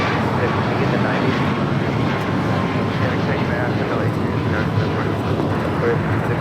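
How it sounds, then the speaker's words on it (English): United Airlines Boeing 737 MAX 8 taking off at LAX, a steady broad jet roar with wind buffeting the microphone, holding loud and even throughout with a faint voice underneath. "Next takeoff, United Airlines flight 2431 heading to Cleveland, Ohio in a brand new 737 MAX 8."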